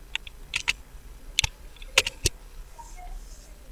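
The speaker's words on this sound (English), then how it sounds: "you can simply press Ctrl F on your keyboard" Keys clicked on a computer keyboard for a Ctrl F search shortcut in an Excel sheet, a quick scatter of sharp, close taps in irregular bursts over a quiet room, with no talking.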